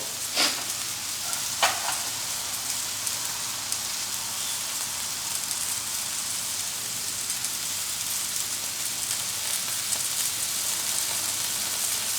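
A loud, continuous sizzle of spices frying in hot butter as tempering, a dense crackling hiss with a couple of sharper pops near the start.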